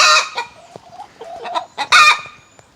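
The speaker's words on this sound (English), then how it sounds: "this is the sound that the chickens make after they've laid an egg" Several backyard Speckled Sussex hens cackle loudly after laying an egg, a burst of repeated squawking clucks with a louder rising outburst near the end, close to the listener.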